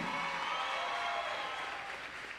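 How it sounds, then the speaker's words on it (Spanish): A crowd at an awards ceremony claps in sustained, moderately distant applause, an even wash of many hands with no voices over it. "Dale un aplauso a Jesucristo fuerte."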